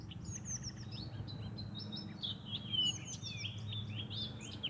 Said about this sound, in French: Je ne sais pas si vous entendez les oiseaux qui nous accompagnent, c'est bien agréable.